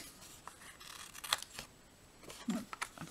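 Scissors trimming paper for a birthday card project, heard as a few close, sharp snips and crisp paper rustles scattered unevenly, with no talking.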